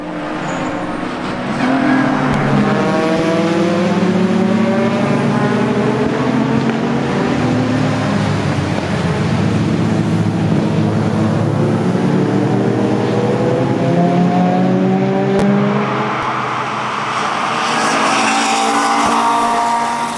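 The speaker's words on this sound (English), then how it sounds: "The race got underway just after 4 PM in the evening, with Rod Birley once again leading from the front, and 36 cars behind him" Race cars, including a Holden Commodore Aussie supercar, roar past at Brands Hatch GP circuit, a dense, loud, continuous engine drone with rising and falling pitches as the pack streams by.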